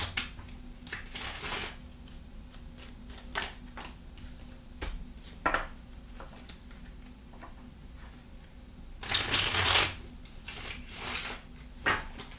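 Tarot cards shuffled by hand in a quiet room, close crisp riffles and slides in irregular bursts, with a longer, louder shuffle near the end.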